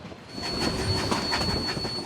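A Cumbres and Toltec Scenic Railroad narrow-gauge steam train, on the highest steam-powered line in North America, rolls along its rails with a steady close rumble and a thin, sustained wheel squeal running through it.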